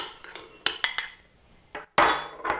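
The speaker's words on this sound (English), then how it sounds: "These are the pecans. Just put them in your bowl" Chopped pecans dropped into a bowl during home baking, giving several sharp clinks and rattles of nuts against the dish, spaced irregularly and close by, with no talk.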